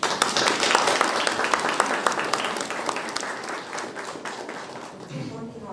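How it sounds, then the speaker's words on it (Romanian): A symposium audience claps in a hall, a steady round of hand clapping that slowly thins toward the end. "vă rog din suflet să o aplaudați"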